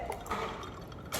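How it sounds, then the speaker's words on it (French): Liquid trickles and splashes briefly into a glass with ice, a short soft pour heard up close. "Je mets une petite touche de lait."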